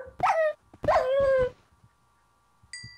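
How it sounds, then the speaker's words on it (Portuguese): Dog barking in the Minecraft game Sky Wars, two close, whining yelps that rise and fall, followed by a short high electronic game chime, with no speech. "Pô, ficava spawnando esse cachorro aí."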